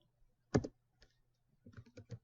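Computer keyboard keys clatter in short bursts: a quick pair of taps, a lone press, then a run of rapid keystrokes, close and crisp against a quiet background.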